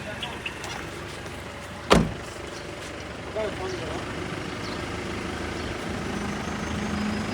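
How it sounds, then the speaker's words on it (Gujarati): A vehicle carrying cattle to a cattle show, leaving for Rajkot, runs with a steady engine rumble as it pulls away, with a sharp knock near the start and people calling out over it. "ગાડી થઈ ગઈ છે ચાલુ"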